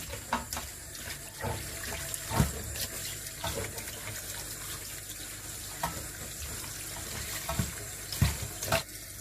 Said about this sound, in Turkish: Evet şimdi de tek tek yıkanıyor. Temiz olsun diye